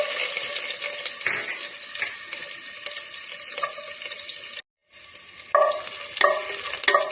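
Garlic fries in hot coconut oil in a pan, a close, steady sizzle with crackling bursts, broken by a brief gap and then scraping stirs.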